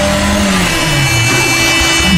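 A car drives along residential streets in Barangay New Zañiga, Mandaluyong City, its engine humming loudly and steadily with slight shifts in pitch as it moves. No one speaks.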